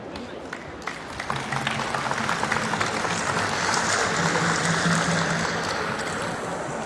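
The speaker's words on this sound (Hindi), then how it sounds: "ताली के गड़गड़ाहट के साथ उनका स्वागत करें।" A crowd applauds to welcome a guest at a Sarna Dharam Maha Sammelan rally inside the Netaji Indoor stadium. The clapping swells after a quiet start into a dense, steady roar that lasts to the end.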